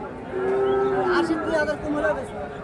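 Cattle lowing at Raniganj livestock haat, a crossbred heifer market, with several drawn-out moos rising and falling over a steady murmur of crowd chatter and bargaining voices.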